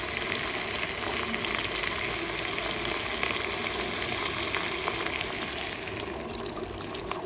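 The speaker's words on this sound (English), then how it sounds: "Now we're going to add just a little bit of veg stock." Vegetable stock pours into a pan of caramelized onion and beer chili, setting off a broad steady hiss of sizzling and bubbling liquid, close and constant, easing slightly toward the end.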